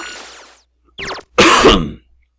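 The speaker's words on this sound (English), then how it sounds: "A little bit of a cough." A single person clears their throat and coughs up close: a rasping throat clear, a short pause, then a brief harsh burst and a louder, longer cough, with silence after.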